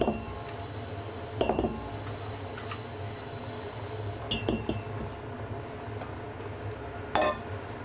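Spatula scraping and folding egg whites into plain chiffon cake batter in a bowl, with several sharp clinks against the bowl over a steady low background hum and no speech.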